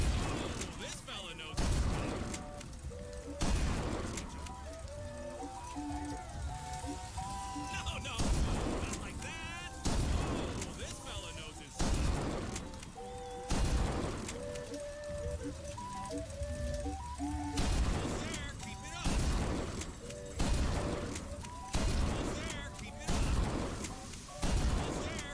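Gunfire in Bioshock Infinite as Vox targets are shot at a fairground shooting game, repeated sharp bursts of shots over cheerful carnival music, with a voice talking between the volleys.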